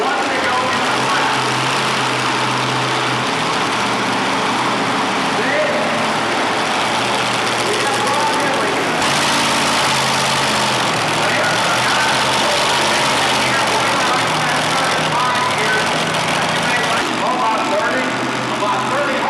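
A modified pulling tractor at a 1988 truck and tractor pull roars in a steady, loud drone with a brief surge midway, while an announcer talks over it throughout.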